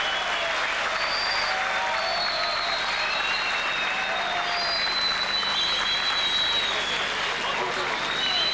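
A festival crowd applauds warmly for a folk singer at a charity concert, steady dense clapping sustained throughout with a broad crowd wash and some faint cheering.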